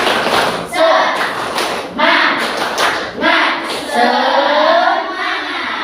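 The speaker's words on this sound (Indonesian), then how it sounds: "kita mulai kegiatan hari ini dengan tepuk semangat" Children in a classroom doing a rhythmic spirit clap, bursts of clapping in a patterned beat mixed with thumps and chanting voices.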